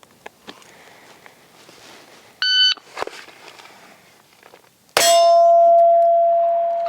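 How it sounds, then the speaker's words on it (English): Shot timer buzzer on a shooting range, a brief electronic beep followed by a loud, sharp metallic clang ringing out with a sustained tone, after soft rustling and footsteps. "So on the buzzer, Compton, just clear the garment safely and"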